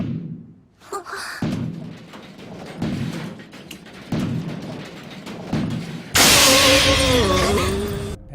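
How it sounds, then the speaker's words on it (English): Several slow, low bangs thud at a steady interval, then a sudden loud crash of breaking glass explodes near the end with bright shattering debris, under a tense backdrop. "Slow, low bangs to a sudden crash of breaking glass."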